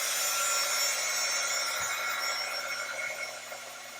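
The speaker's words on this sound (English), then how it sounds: "I'll plug in my dryer." A hair dryer runs steadily nearby with a constant airy whoosh and faint tonal hum, easing slightly in loudness toward the end, with no talking.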